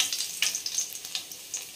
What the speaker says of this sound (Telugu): ఇప్పుడు మనము ఆనియన్స్ వేసుకుందాం.